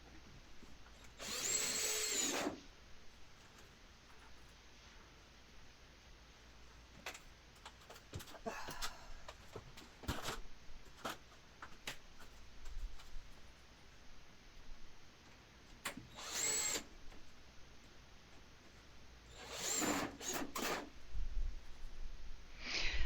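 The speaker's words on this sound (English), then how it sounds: "I'm attaching this wood to these metal studs, so I'm using the coarse thread" A power drill drives coarse-thread screws through wood into metal studs while a shower valve with PEX lines is fitted. Three short loud whirring bursts sound close up, separated by quiet handling noise.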